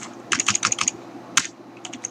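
Keystrokes on a computer keyboard as a short filename is typed, a quick burst of about eight clicks, a pause, a single key, then a few more taps; close and clear with no talking.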